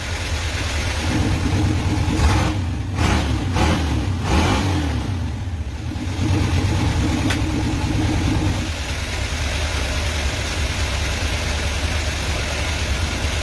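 A car with an Evil Energy electric exhaust cutout open on a 3-inch exhaust revs in several sharp bursts, then settles into a loud, deep idle rumble that continues to the end.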